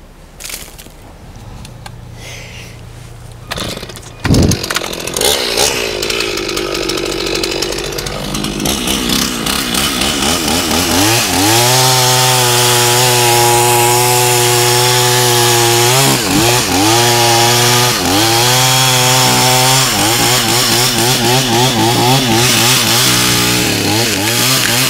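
Chainsaw cutting into a notched tree being felled for firewood, starting after a few quiet seconds and then running loud and close with repeated revving surges and dips in pitch as it bites through the trunk.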